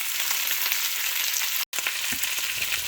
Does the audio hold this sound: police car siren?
no